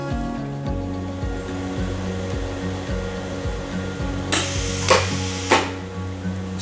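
A pulse welder running with its power turned up, giving a steady buzzing hum with rhythmic pulsing, then a few sharp loud crackling bursts near the end.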